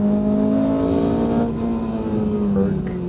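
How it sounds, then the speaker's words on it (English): A car fitted with a Berg aftermarket test pipe and a Clive single exit exhaust drones loudly and steadily throughout, its engine note shifting slightly in pitch as it holds speed, heard from inside the cabin. "The Berg test pipe that I have, as well as the Clive single exit exhaust, is horrendously loud."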